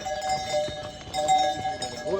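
Mule hooves clip-clop along a mountain path on a Hemkunt Sahib pilgrimage route, a steady near rhythm of hoof strikes mixed with bell-like ringing, heard under people talking.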